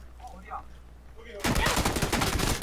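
Quiet murmuring voices, then from about halfway a sudden burst of rapid, loud gunfire in PlayerUnknown's Battlegrounds that continues steadily to the end.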